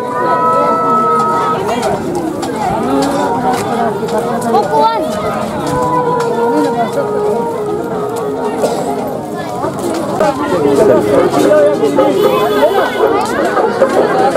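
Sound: large festival crowd at Neelkanth ashram on Janmashtami

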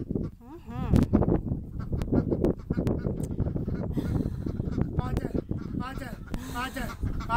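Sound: ducks and chickens in a barnyard

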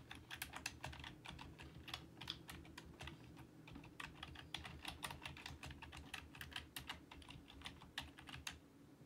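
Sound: typing on a computer keyboard

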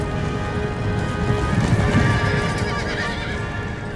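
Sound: cavalry horses charging in video game Empire: Total War

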